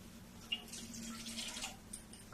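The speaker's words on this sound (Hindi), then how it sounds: "अब इसमें मैं थोड़ी सी पानी डालूंगी।" A small amount of water is poured into a cooking pot in a home kitchen, a faint, brief trickle with a few drips against a quiet background.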